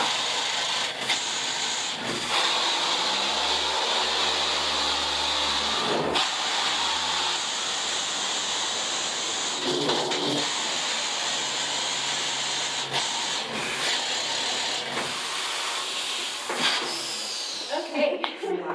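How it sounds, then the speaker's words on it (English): A B12 air-powered mucker runs underground in a gold mine, a loud, steady pneumatic roar and hiss with clanking surges and rumbling bursts throughout, ending in sharp metallic knocks. "This is a B12 air-powered mucker."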